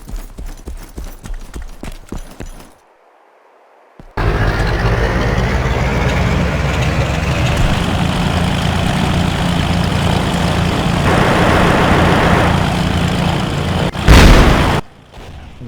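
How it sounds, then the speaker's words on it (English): A propeller plane crashing in the game DayZ after a bird strikes its propellers: a sudden loud roaring rumble and grinding that holds steady, rises to a brief heavy impact near the end, then cuts out. "a cuckoo just flew out of a nest and like hit into my propellers. That made me crash"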